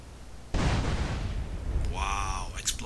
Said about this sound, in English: Wow, explosions.